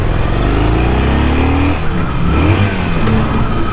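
A Harley-Davidson Forty-Eight motorcycle V-twin engine revs loudly up close, with a rising then falling throaty pitch and a constant heavy rumble throughout.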